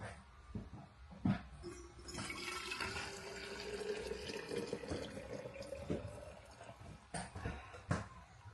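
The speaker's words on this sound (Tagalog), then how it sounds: "Lagay ko yung tubig sa aking maliit na thermos." Hot water is poured into a small thermos food jar, a gurgling fill whose pitch rises over several seconds, with clinks and knocks of the container before and after.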